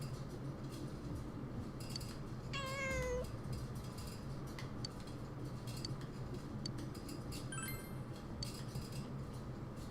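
A cat in Persona 4 Golden meows once clearly, with a fainter high call later, over a constant busy background of clinks and murmur.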